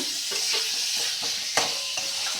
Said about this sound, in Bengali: আলুগুলোর সাথে ভালো করে কষিয়ে নেব